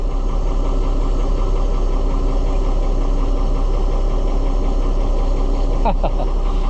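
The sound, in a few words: car engine idling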